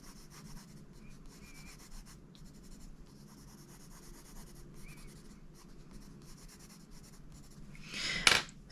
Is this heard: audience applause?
no